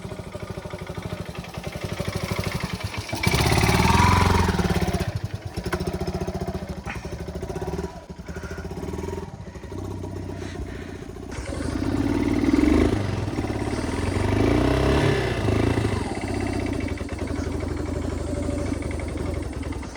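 A motorcycle strains up a steep, muddy hill road, its engine roaring loudly and unevenly with surges and rattling clatter throughout.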